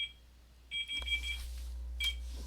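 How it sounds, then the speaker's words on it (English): An alarm beeps in short bright electronic bursts, a few separate beep groups spread across the moment, fairly faint over a steady low hum. "I have no idea why my alarm was set."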